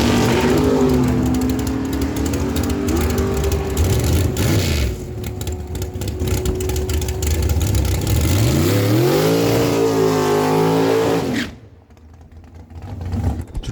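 A 2005 BMW dragster and a 2008 M&M dragster race side by side down the drag strip, loud engines roaring and pitching upward through hard accelerations before cutting off abruptly near the end, leaving faint ambient noise.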